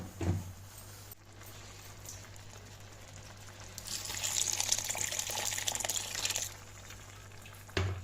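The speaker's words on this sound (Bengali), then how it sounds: "এর মধ্যে এবার আমি আরও কিছুটা গরম জল দিয়ে" Hot water poured into vegetarian bhuna khichuri cooking in a pot, a gushing liquid stream swelling in the middle for a few seconds over a low background hum, with a couple of clanks at the start and end, no voices.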